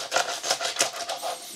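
A knife saws through a crusty Kaisersemmel bread roll in a quick run of crackly, rasping strokes, close and crisp over about a second and a half, with no voices.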